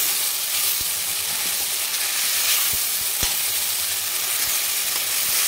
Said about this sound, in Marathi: आणि टोमॅटो पण छान कच्चेपणा याचा जाईपर्यंत आपल्याला त्याला पण परतून घ्यायचं.